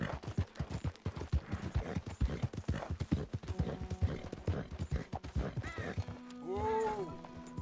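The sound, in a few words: horse hooves while riding on horseback in Red Dead Redemption 2 (video game)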